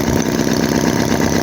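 A vintage Chinese HOLT H75 four-cylinder engine runs steadily at close range, a loud, even rhythmic chug with no voices over it.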